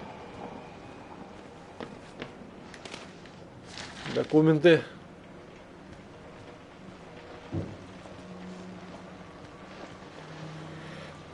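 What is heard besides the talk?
thunder and heavy rain in video game Outlast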